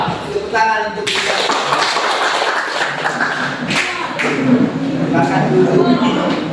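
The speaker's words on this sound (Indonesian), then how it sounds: "Tepuk tangan untuk kita." Clapping from a class of students during a trigonometry lesson, a busy patter of hands mixed with taps and thumps, steady and fairly loud, with voices talking over it throughout.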